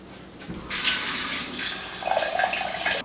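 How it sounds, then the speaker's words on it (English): Tap water runs into a small pot to rinse yellow split peas: a sudden rushing stream starts, then splashes and gurgles steadily as the pot fills, close and fairly loud. "And now I'm going to rinse it with water."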